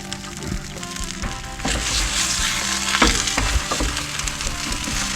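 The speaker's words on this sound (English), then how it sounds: "Get that butter melting" Butter melting in a hot pan, a close crackling sizzle with scattered pops and spatters and a few utensil knocks, steady throughout without talk.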